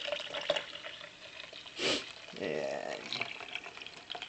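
Kava liquid being poured through a mesh strainer gives a soft watery trickle with brief louder splashy bursts, heard close up with a little speech nearby.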